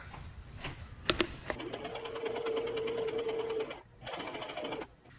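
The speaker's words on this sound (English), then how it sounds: "I machine gathered the top of the skirt the same way, just the longest stitch, highest tension" A sewing machine runs a long gathering stitch through cotton skirt fabric, starting with a few sharp clacks, then a steady close whirring hum that stops, followed by a shorter burst of stitching.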